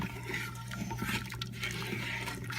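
About two and a half cups of kosher salt poured into two quarts of near-boiling water for a ham brine, giving a close, continuous gritty hiss mixed with liquid churning and no voices.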